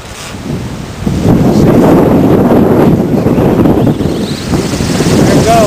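Strong gusts buffet the microphone outdoors at night, a loud roaring rumble that swells after the first second and holds steady with slight dips, no clear talk over it.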